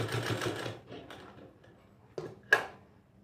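A sewing machine stitches along the edge of an apron collar in a brief close burst, followed by a few sharp mechanical clicks and taps, with no voices.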